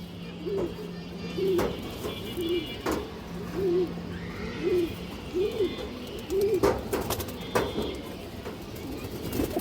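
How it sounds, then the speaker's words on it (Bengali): Domestic pigeons at a fancy-pigeon sale coo close by in a repeated rolling rhythm, several soft throaty calls spaced across the recording, with some background noise and occasional clatter. "খুবই সুন্দর কবুতর ডাউন শেপের কবুতর"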